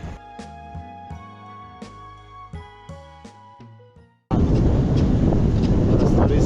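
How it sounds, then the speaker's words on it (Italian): Strong wind buffets the microphone on a small boat at sea during bottom fishing for horse mackerel. It bursts in loudly and steadily after a few seconds of music. "è entrato un vento fastidiosissimo"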